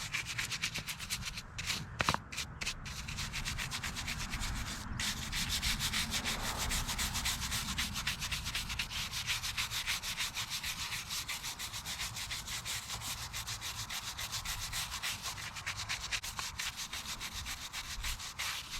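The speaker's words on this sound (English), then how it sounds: "all we're gonna do first off is scrub, sweep, whatever, get some of this lichen off of there to begin with" A brush scrubs dry lichen off a headstone with a steady, close, rasping scrape that runs continuously, broken by a few sharper scratches near the start. No one talks.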